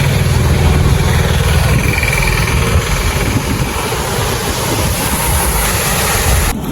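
Loud, constant rushing roar of Krishna River water pouring over the Srisailam dam, a dense wash of sound filling the whole clip with no talk.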